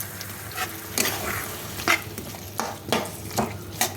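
Shrimp fry in a pan while a spoon stirs them, with steady sizzling broken by repeated scraping strokes about every half second, close and fairly loud, and no voices.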